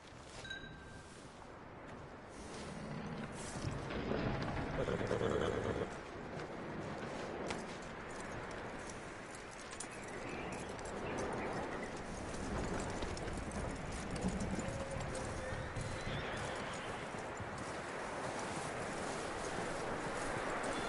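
Horse hooves clip-clop steadily in a PS4 video game, a continuous rhythmic patter set against dense game ambience and mid-level noise throughout.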